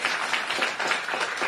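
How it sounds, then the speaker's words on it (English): An audience claps in a brief burst of steady, dense applause from a crowd listening to a political speech. "Now you're clapping"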